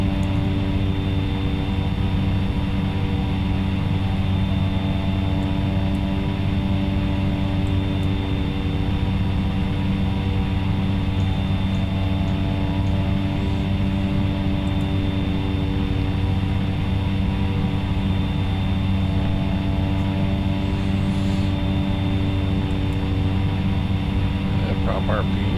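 Aircraft flying in the X-Plane 11 flight simulator: a loud, steady engine and propeller drone with a constant hum of tonal harmonics that holds unbroken throughout.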